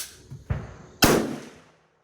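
A Swiss K11 rifle is fired at an outdoor range with targets at 100 yards: two loud, close, sharp cracks about half a second apart, the second louder and ringing out in a lingering echo.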